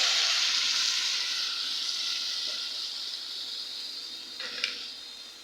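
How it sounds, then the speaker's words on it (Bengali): Water goes into a pan of fried onions, setting off a loud hissing sizzle that slowly eases, with a few clinks of a spoon near the end and no talk. "এখন আমি পানি দিয়ে দিব।"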